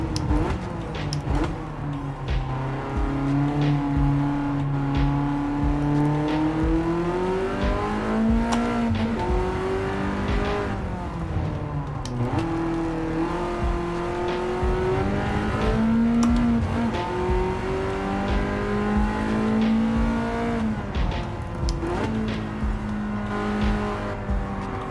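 A race car engine in Gran Turismo 7 revs loudly and continuously, its pitch climbing and dropping through repeated gear changes, with a few brief tire squeals as the car fights oversteer.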